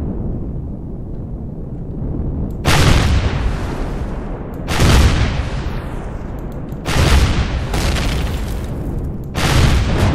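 Ship thrusters blown apart in the space game Empyrion, four heavy explosions bursting out at roughly two-second intervals, each a loud sudden boom that decays into a rumbling tail over a low steady hum.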